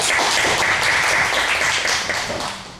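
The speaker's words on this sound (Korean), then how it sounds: "자, 박수 한번 주시죠." Applause from a church audience at a young couples' seminar, a dense, steady wash of many hands clapping close by that thins and fades toward the end.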